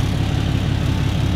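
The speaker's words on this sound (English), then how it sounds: "If you listen closely, that's the sound of a diesel." A Cummins-powered diesel truck idles nearby with a steady, loud, rumbling drone that holds even and unbroken throughout.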